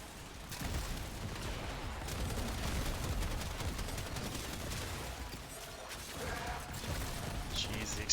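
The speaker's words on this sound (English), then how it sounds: "the explosions" Explosions and gunfire in the game Warframe form a dense, steady rumble of blasts and rapid shots, faint and continuous, with a few brighter bursts standing out near the end.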